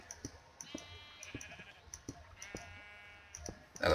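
Sheep in a video game bleat in two drawn-out calls, one early and one midway, among sharp repeated clicks with no talking.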